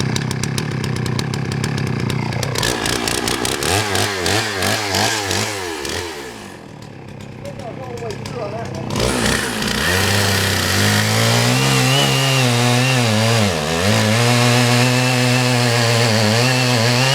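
A loud, close chainsaw with a 36-inch bar cuts through big log rounds, its engine droning at high revs, dipping as the chain bogs in the wood, then roaring back up to a sustained whine.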